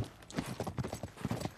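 Horse hooves galloping across desert ground in the video game Uncharted 3, a rapid, close clip-clop rhythm of distinct hoofbeats over a short stretch, with no talking.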